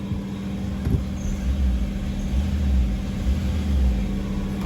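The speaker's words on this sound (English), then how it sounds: "So our engine is now running" A Suzuki Swift engine idles steadily with throttle body faults, a continuous low rumble with a faint high whine, close and constant with no talk.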